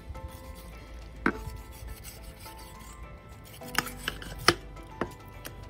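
A knife works through a California sheephead fish during filleting, giving several sharp, close crunching cuts and scrapes at irregular intervals over a quiet background, with no voices.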